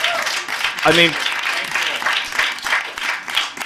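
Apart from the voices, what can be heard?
audience applause at open mic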